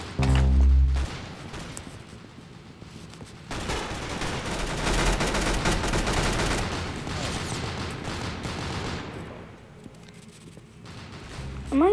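Gunfire from a gun in the video game Roblox: rapid bursts of shots, loudest and densest in the middle of the clip, with quieter stretches before and after.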